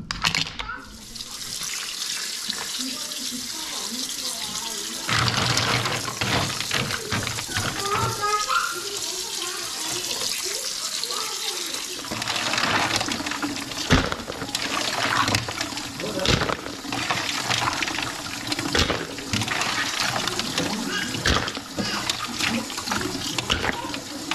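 Food being washed under a running kitchen tap, a steady splashing stream of water with shifting gurgles as the produce is rinsed, while a person talks over it.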